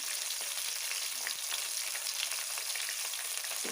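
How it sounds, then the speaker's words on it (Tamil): Sliced big onion frying in a pan for coriander rice, a dense, steady hiss close by with faint crackles throughout and no voices. "அப்புறம் நான் ஒரு பெரிய வெங்காயம் போடுறேன்."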